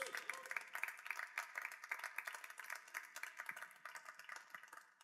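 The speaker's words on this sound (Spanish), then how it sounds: "Dale un aplauso a Jesús." A church congregation applauds during a sermon, a quiet, fairly distant patter of many hands clapping steadily and then tapering slightly toward the end.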